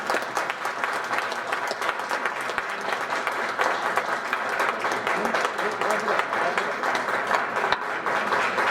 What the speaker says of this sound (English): Let's give them one more round of applause for an incredible evening at the Granada Forum.